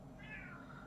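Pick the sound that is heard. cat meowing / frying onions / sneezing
cat meowing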